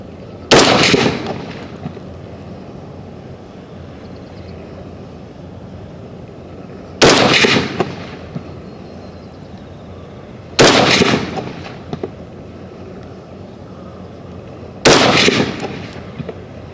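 Ruger SFAR .308 rifle fired at an outdoor range: four loud, sharp shots spaced several seconds apart, each followed by a brief rolling echo, with no talking.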